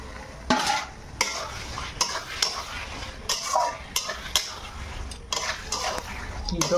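Meat cooked in a pan on a stove, stirred with a utensil that scrapes and clanks against the metal in repeated strokes over a soft frying sizzle, close and moderately loud.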